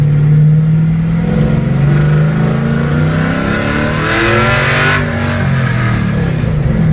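A 1963 Chevy C10 pickup with a swapped-in 5.3 LS V8 revs hard and steadily, its loud, aggressive engine note rising and holding close by with no talking over it.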